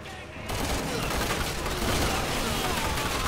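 Gunfire in Resident Evil 6, a dense, loud burst of rapid shots and crackling impacts that starts abruptly and continues steadily, with a voice faintly underneath.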